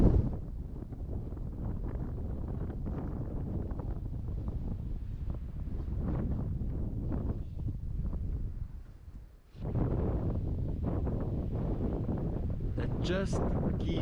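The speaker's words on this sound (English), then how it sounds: "so you're going to hear lots of wind" Strong wind at Mapungubwe buffets the microphone in continuous roaring gusts, briefly dropping before surging back, with a voice talking underneath.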